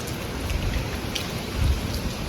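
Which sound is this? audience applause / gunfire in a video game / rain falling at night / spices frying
rain falling at night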